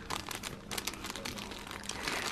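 Cellophane packaging sleeves are crinkled and squeezed by hand, producing a dense, close crackle of sharp rustles with irregular bursts throughout, without any voices.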